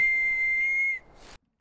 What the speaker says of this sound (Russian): Свистулька.